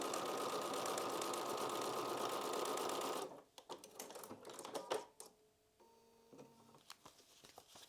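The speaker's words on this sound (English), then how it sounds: "And sew on that solid line." A sewing machine stitches a seam on a foundation paper-pieced butterfly quilt block, a steady loud run of rapid stitching for about three seconds that stops abruptly, followed by scattered light clicks and handling noises.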